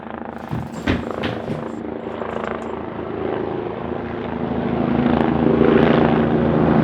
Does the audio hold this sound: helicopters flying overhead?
yes